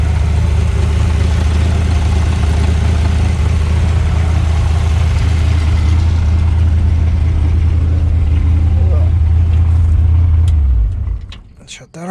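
A 1935 Ford hot rod with a 327 V8 and six Holley 94 carburetors idles with a loud, steady low rumble that cuts off near the end, followed by faint clicks.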